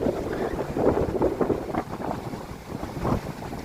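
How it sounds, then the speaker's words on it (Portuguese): Strong wind buffets the microphone at the seaside while high-tide waves surge and wash in, a dense, continuous roar of rushing air and churning water. "é vento mesmo. Olha a altura dessas marés aí."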